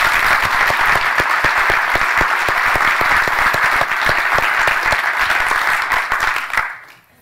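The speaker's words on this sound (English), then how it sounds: "So I think a special round of applause for Sam Felton." An audience applauds at the end of a talk on evidence-based medicine: dense, steady clapping that stays loud throughout, then tapers off and fades out near the end.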